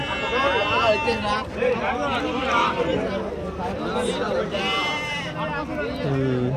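Sheep and rams bleat at a busy livestock market in Angallu, their calls rising over constant crowd chatter and nearby voices talking.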